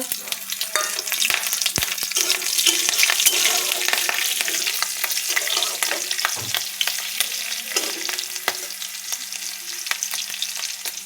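Slit green chillies and cumin seeds hit hot oil left over from frying fish, giving a loud, steady close sizzle with occasional scraping stirs and no talking.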